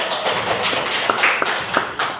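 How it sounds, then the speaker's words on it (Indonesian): A classroom of students clapping their hands together, a dense, steady patter of many claps with a few sharper taps standing out near the end. "Tepuk tangannya dulu."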